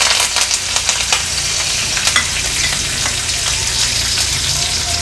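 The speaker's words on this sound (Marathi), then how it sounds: "जिरं तेलावर थोडं तडतडलं का कढीपत्ता आणि ही मिरची आपण फोडणीला घालणार आहोत।" Cumin seeds, curry leaves and green chili sizzle in hot oil for a fasting-style water chestnut dish, a steady loud crackling hiss with scattered sharp pops and spits running throughout, no voices.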